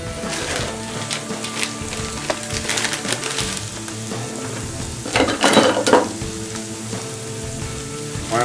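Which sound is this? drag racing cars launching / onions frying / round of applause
onions frying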